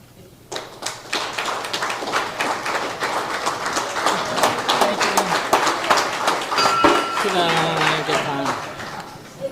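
An audience at an American Legion post gathering claps loudly and steadily for several seconds, dense overlapping applause rising and then tapering off, with a few voices and laughs mixed in.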